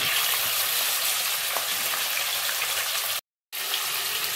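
Marinated chicken pieces frying in hot oil for chicken rezala, a steady broadband sizzle running close and loud throughout, broken by a brief silent gap near the end.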